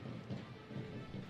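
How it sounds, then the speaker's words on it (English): Rain falls steadily on an outdoor football stadium during a match, a faint continuous wash with soft low rumbling swells. "as the rain continues to fall"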